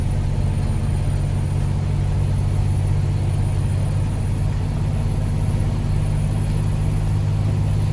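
A Kenworth C500 truck in American Truck Simulator, hauling a heavy load with a smaller engine, gives a steady, loud, low engine drone that holds unbroken throughout with no talking.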